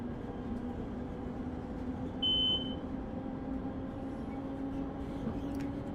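Arrow III electric train from Train Sim World 6 climbing a steep 2% grade on New Jersey's Morristown Line, a steady low rumble and hum of motors and rails with a brief high electronic beep in the middle.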